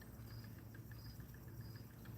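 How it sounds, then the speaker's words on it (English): Faint crickets chirp outdoors in a steady, rhythmic pattern against a quiet background on a cloudy day, with no one speaking. "I'm imagining you can probably hear the birds and maybe the crickets."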